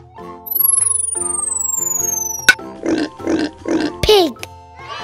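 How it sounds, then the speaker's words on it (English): A pig grunts and oinks in four or five close, rhythmic bursts, followed by a rising squeal, after a long tonal musical swoop; a voice speaks over part of it. "Pig."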